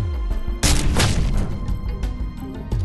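A single heavy gunshot from a rifle in the Ghost Recon Future Soldier game, a sharp boom followed by a rumbling tail over a low background hum.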